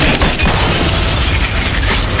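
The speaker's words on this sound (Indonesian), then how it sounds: "tangannya menempel pada pintu mobil hingga kacanya pecah." A car window's glass shatters in a loud, dense burst of crashing and crackling that fills the whole stretch, then cuts off abruptly.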